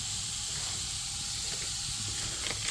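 A thick steak sears in a hot pan, giving a steady, even sizzle and hiss that runs throughout with no one talking.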